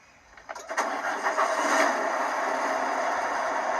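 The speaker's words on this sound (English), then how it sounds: "starting the engine." A diesel truck engine cranks and catches after a short quiet start, then settles into a steady, loud running roar close by, with no voices over it.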